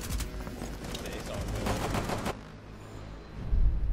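Rapid automatic gunfire in Rainbow Six Siege, a dense burst of shots for about two seconds that then cuts off, loud and close, with some voice underneath.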